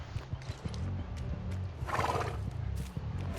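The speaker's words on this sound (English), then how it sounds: "What, the horse making that rattling sound?" A horse in a video game whinnies with a rattling, fluttering snort, accompanied by steady clip-clop hooves and game background sounds at moderate volume.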